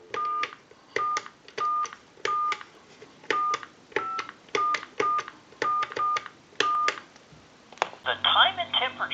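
A rapid series of touch-tone dialing beeps on a Pottery Barn wall telephone, about a dozen short even-spaced tones, followed by a brief ringing signal at the end.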